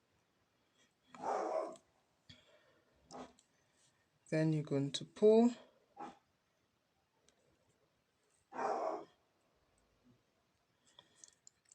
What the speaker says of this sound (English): My dog conveniently decides to bark while I'm shooting.